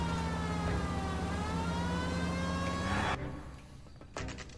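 A police siren in the video game L.A. Noire wails steadily with a slowly shifting pitch, then cuts off abruptly, leaving a quieter stretch broken by a few brief noisy bursts.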